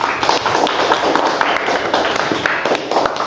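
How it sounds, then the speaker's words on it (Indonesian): Applause from a classroom of students for one classmate, a steady dense patter of clapping hands lasting throughout, moderately loud and close. "Kasih dulu tepuk tangan."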